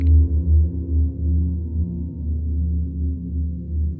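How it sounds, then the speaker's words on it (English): A heavily slowed sample washed in convolution reverb, a dark low drone that pulses and swells unevenly, moderately loud and alone. "Maybe add some convolution reverb."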